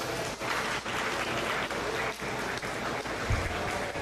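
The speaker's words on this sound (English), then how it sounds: "Let's give them a round of applause" Crowd applause ringside at a 2021 meat goat show for young exhibitors, a steady broad patter of many hands clapping, moderately loud and even throughout, with a brief low thump near the end.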